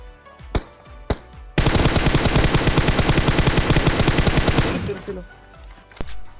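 Gunfire in a battle royale video game: a couple of single shots, then a long rapid automatic burst lasting about three seconds, loud and close, tapering off before a final isolated shot.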